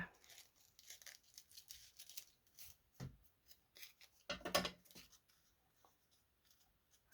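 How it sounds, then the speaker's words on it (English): Scissors snip through thin tissue paper for a layered paper flower, giving soft, irregular cuts and light rustles with a few sharper crisp snips, close and quiet. "now I'm going to cut away this tissue"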